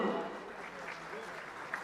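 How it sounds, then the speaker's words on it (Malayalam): Guests at a wedding applaud the bride and groom with a dense burst of clapping. It is loudest at the start and eases off, and a little scattered clapping and crowd noise continue afterward. "ഇനി നമ്മളെല്ലാവരും ചേർന്ന് നമ്മുടെ ബ്രൈഡിനും ഗ്രൂമിനും ഒരു ഗംഭീര കൈയടിയാവട്ടെ എവരിവൺ"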